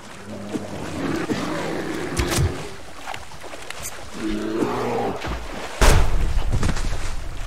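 A bear in the survival video game Subsistence lets out two drawn-out, growling roars over a water and boat-like background, followed by a louder burst of noise near the end.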